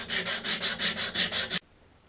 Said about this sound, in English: Sanding the clutches down.